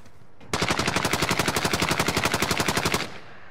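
Video game gunfire: a single loud, sustained automatic burst of rapid, evenly spaced shots lasting about two and a half seconds, with no talking over it.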